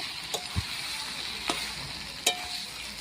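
Vegetables sauté in a pan with a soft, steady sizzle, punctuated by several sharp clinks and scrapes of a spoon stirring against the metal.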